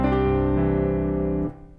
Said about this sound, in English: now I'm gonna play these two chords and I won't use a pedal